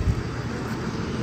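A 2019 Honda Fit's 1.5 liter engine with an automatic gearbox revs, a dense, loud, steady engine roar heard close, with no talking.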